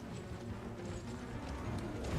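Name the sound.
horse galloping in video game Elden Ring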